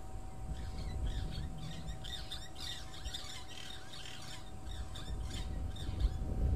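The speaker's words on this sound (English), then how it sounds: "If you're hearing the little birds calling above me," Small birds chirp and call repeatedly at a distance on a morning safari drive, over a steady background hum and low rumble, their thin high notes scattered throughout.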